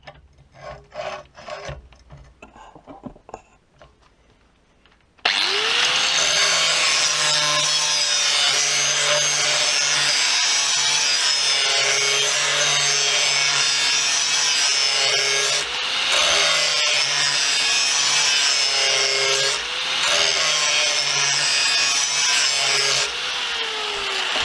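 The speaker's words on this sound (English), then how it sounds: "the blade is looking extremely sharp in just a few minutes of using the grinder on it" A harsh, continuous grinding rasp of a lawn mower blade against a grinder's abrasive wheel, loud and steady with slight dips, following a few seconds of quieter clatter.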